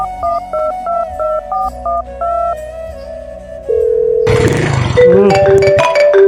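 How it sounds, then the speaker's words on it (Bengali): A phone being dialed, a quick series of loud DTMF keypad tones in short bursts, then a ringing tone, before a sudden burst of busier noise takes over. "দাঁড়া, ফোনটা করি না।"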